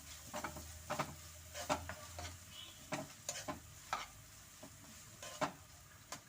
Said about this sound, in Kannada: ಈರುಳ್ಳಿ ಚೆನ್ನಾಗಿ ಫ್ರೈ ಮಾಡೋಣ.